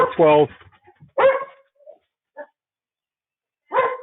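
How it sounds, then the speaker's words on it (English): A dog barks a few times in short bursts, with quiet gaps between the barks, fairly close by. "Excuse my dog's barking there."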